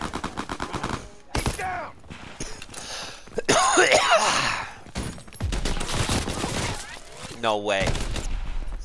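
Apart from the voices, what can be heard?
gunfire in the video game Call of Duty: WWII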